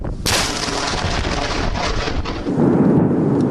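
Thunder from a massive lightning bolt during a storm in Denison, Iowa, opens with a sharp crack and rolls on as a loud, continuous rumble that deepens toward the end.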